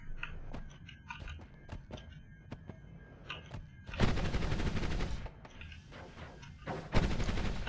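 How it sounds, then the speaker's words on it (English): Gunfire in the pixel-art video game Noita, rattling in dense, loud bursts that break in after scattered clicks and thuds, then return in a second short flurry. "Who is shooting me?"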